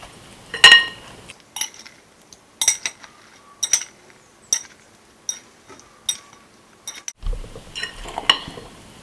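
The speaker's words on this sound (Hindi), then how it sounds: "तो बस अब यहाँ पर हम अचार को अच्छे से मिक्स कर देंगे।" Carrot and radish pickle being stirred with mustard oil, giving a series of short scraping and clinking strokes of a spoon against the container, close and fairly sparse, with a brief louder rustle near the end.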